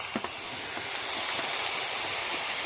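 Steady loud sizzling hiss of a spice paste hitting hot oil in a pan with fried onion, ginger and garlic for egg malai curry, continuous and close with no speech.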